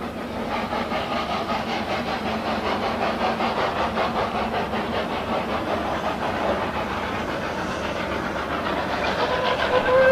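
Snowdon Mountain Railway steam locomotive Enid hauling its carriage up the mountain rack line, a steady chugging and rolling rumble that holds even throughout and swells slightly louder near the end.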